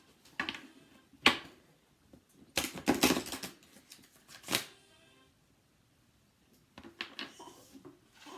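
Playing cards riffle and flutter in several short bursts, close up, with brief pauses between shuffles and no talking.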